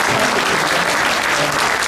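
A crowd at a pastors' patriotic prayer meeting breaks into loud, dense applause, a close, steady wash of clapping hands throughout.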